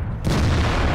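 A single heavy tank cannon shot from an AMX Foch in World of Tanks, a sudden close boom that rolls into a sustained low rumble with no voices.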